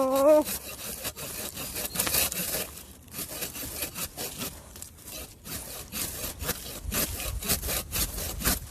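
A blunt hand saw grinds through hard bonglai bamboo in steady back-and-forth strokes. The rasping sound is continuous and close, with a short squeak at the start.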